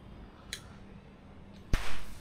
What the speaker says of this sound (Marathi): हे आमचं लहान पोरगा अजून फटाकेच फोडतं